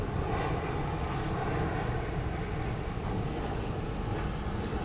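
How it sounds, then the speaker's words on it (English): Jet airliners taking off from runway 36 Right at DFW Airport make a continuous, broad engine roar that holds steady at a moderate distance throughout, with no talk over it. "planes are taking off now from runway 36 right"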